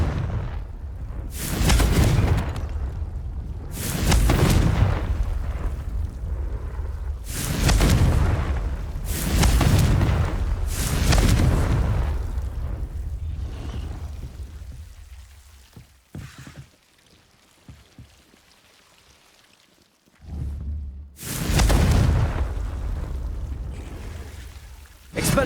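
Confringo fire spell explosions in Hogwarts Legacy, a loud series of heavy booming blasts in quick succession, then a near-silent pause before another burst.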